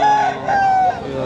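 A country rooster at the Gudur village chicken market crows close by, a loud drawn-out call lasting about a second over faint background noise.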